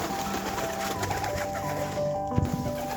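Racing pigeons back from a race, soft cooing and rustling in the loft, faint and close, with mechanical-sounding murmurs and a small thump near the end.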